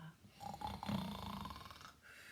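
A single deep, rumbling snore from a sleeping figure in a winter folktale, one drawn-out rattling breath lasting about two seconds, close and fairly soft.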